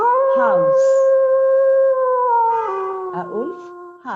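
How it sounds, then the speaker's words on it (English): A wolf howls in one long, sustained tonal cry that slowly drifts and bends in pitch. It is close and loud, with a short wavering rise near the end. "A wolf howls."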